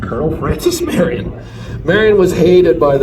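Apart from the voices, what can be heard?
None of the usual background noises is heard.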